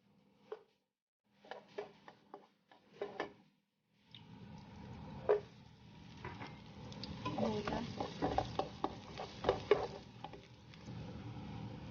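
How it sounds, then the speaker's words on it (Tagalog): Garlic, onion and ginger are sautéed in olive oil. A few separate knocks and taps come first, then a steady close sizzle that grows louder, broken by scraping stirs and sharp clicks of the utensil against the pan. "Gigisahin muna natin ang ating bawang at sibuyas, luya."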